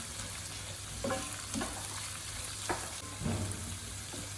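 Onions frying in a pan of hot oil, softening toward light brown: a steady broadband sizzle runs throughout, with a few soft scrapes of stirring and a low steady hum underneath, close and fairly quiet, no voices.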